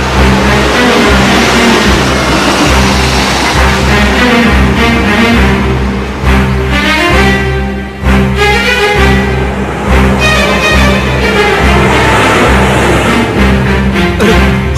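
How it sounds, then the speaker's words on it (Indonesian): A car engine runs loud and close, its mid-pitched drone rising and revving in steady strokes with a brief dip midway, alone without voices. "Itu pasti mobil Papa Vian."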